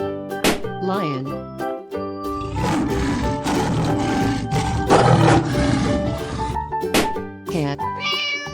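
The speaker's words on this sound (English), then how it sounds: "Lion." A lion's roar as a stylized cartoon animal sound among playful musical tones in a kids' animal-guessing game, loud and sustained for several seconds between brief chimes.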